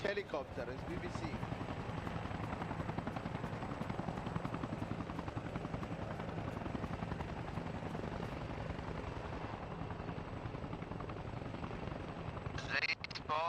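Steady rotor beat of a giant marine helicopter in the video game Arma Reforger, a sustained mid-level thrum with voices talking over it.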